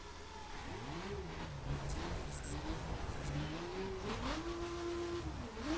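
An Aston Martin engine in the racing video game The Crew revs loudly, its pitch climbing, dipping and climbing again in sustained surges, alone and close up.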